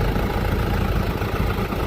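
A tractor engine idles close by at a steady, loud, low throb with a pulsing, rough texture and no change in pace.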